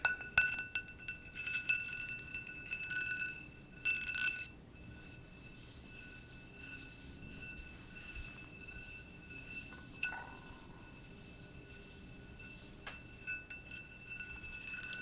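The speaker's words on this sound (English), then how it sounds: "It's a glass bowl that holds my crystals here." Crystals clink against a glass bowl in a quiet room, a series of light, bright glassy taps and chimes, clustered early and then scattered, with soft handling noise between.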